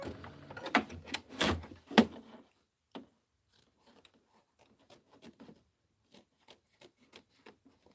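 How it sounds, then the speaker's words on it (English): Scissors trim fabric for a sewn quilted pillow block, starting with a burst of close rustling and cutting, then a run of faint, spaced snips and small handling sounds. "I'm going to trim a little of this away so it's not in the way of the other part down here"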